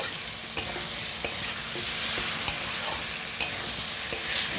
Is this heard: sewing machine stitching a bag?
no